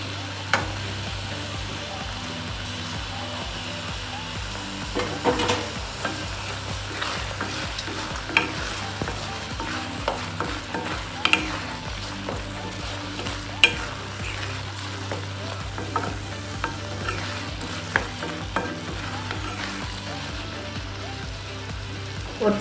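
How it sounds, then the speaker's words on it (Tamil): Paneer cubes being stirred into simmering palak in a pan, with a steady low sizzle under repeated spoon scrapes and clinks against the pan, close and continuous with no talk. "இப்போ இந்த பன்னீர் கியூப்ஸ் ஆட் பண்ணிடலாம்."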